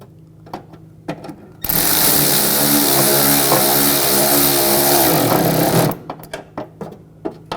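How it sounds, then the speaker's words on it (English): Screws are driven into the front bumper cover of a 2004-2009 Audi A4 Quattro, a loud, steady motorized whir lasting about four seconds, with scattered clicks and handling knocks before and after. "Take these screws, get these started. Tighten those down."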